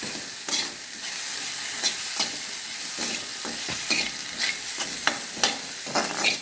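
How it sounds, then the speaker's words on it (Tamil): Frying in coconut oil, a dense continuous sizzle with frequent scraping stirs of a spatula against the pan, close and fairly loud. "திரும்பவும் ஃப்ரை பண்ணணும். நான் தேங்காய் எண்ணெயாக்க விட்டுருக்கேன்."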